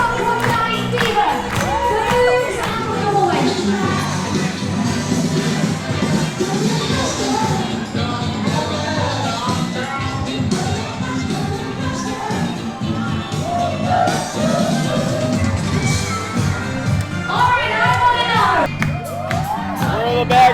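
Cruise ship audience at a show on Adventure of the Seas, a dense crowd roar of cheering, whoops and shouts with scattered clapping, loud and continuous throughout with music underneath.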